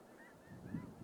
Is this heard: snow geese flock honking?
yes